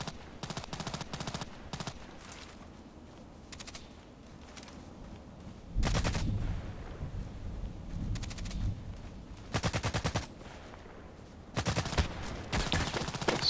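Semi-automatic gunfire in the online shooter Contract Wars: several separate bursts of rapid sharp shots with quiet gaps between, close and fairly loud, no talking.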